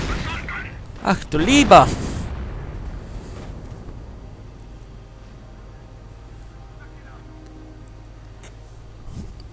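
Gunfire and grenade explosions in a WWII real-time strategy game, a burst of loud blasts and shots in the first two seconds, then a low rumbling battle bed with a faint pop near the end, with a voice speaking over it.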